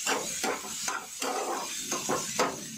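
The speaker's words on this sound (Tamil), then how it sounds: "இந்த மஷ்ரூமை வதக்கிக்கலாம்." Mushrooms sautéing in a little oil in a pan for a kadai mushroom dish, a steady soft sizzle and hiss under periodic scraping or stirring strokes, fairly quiet and close.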